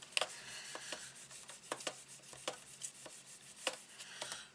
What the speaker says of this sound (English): And then we can fold and burnish that into place.